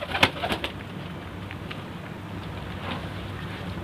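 A pigeon coos near scattered grain, with a few soft cooing calls and light taps early on, followed by a quiet outdoor hiss.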